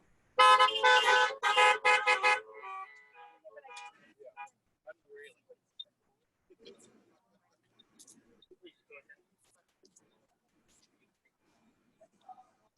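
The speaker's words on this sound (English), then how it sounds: "Give a horn honk." Two loud, blaring horn honks in quick succession, followed by faint scattered clicks and rustles in near quiet.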